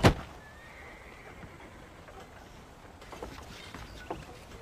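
Horses in the Red Dead Redemption video game give a sharp, loud whinny right at the start, followed by quiet ambient noise with a few faint clicks.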